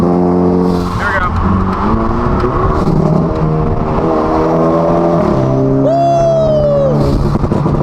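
Hyundai Elantra N in a custom drive mode, exhaust popping and crackling on each gear shift amid engine revs, loud and close, with people talking over it.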